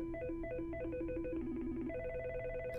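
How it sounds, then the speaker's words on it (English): Ringtones on a Mitel 6865i desk phone cycle one after another, short melodic electronic tone patterns that switch to a different pattern partway through, clear and close with no talking. "Press the down arrow to cycle through the various ringtones."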